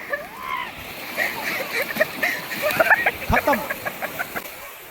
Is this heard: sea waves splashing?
yes